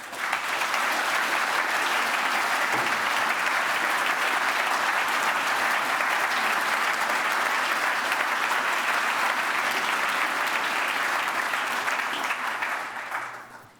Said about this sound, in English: Let's give all of you a big round of applause.